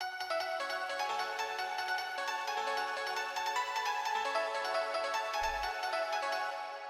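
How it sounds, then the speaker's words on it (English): A bright, pitched-up piano melody rings out steadily, thin and chime-like with no low end, playing alone without voices. "I tweaked the pitch of the piano so it sounds like this."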